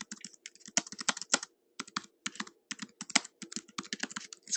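Fast typing on a computer keyboard, crisp clicking keystrokes in quick bursts broken by brief pauses, close and clear with no talking over it.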